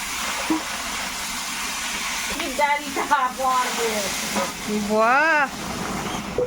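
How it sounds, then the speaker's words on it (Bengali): Gagra fish fries and bubbles in hot oil with dried chilli, bay leaf, garlic, onion and panch phoron, a steady hiss beneath a voice speaking over it. "এই যে টকবক করে ফুটে উঠলো"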